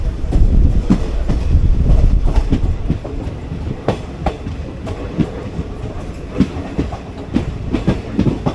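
Passenger train 14736 arriving at Barnala station, a loud close rumble with rhythmic clickety-clack of wheels over rail joints that eases slightly as it slows.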